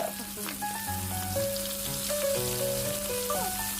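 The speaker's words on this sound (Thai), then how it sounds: "ใส่หมึกลงไปทอดได้เลยครับ" Squid sizzles and crackles steadily in hot oil, a dense continuous frying hiss, with faint music playing in the background.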